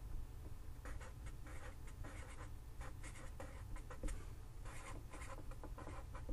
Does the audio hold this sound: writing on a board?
yes